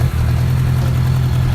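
A 1982 Honda GL1100 Goldwing with its horizontally opposed engine catches and settles into a steady, loud low hum close by, a brief dip at the very start and then an even running drone with no talking.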